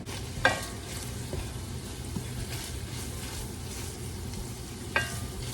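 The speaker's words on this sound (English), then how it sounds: "get our mushrooms put in our pan with our ground beef so that these can start cooking down" Mushrooms and ground beef cook in a pan with a soft, steady sizzle, and a couple of sharper stirring clicks sound near the start and end. No one speaks.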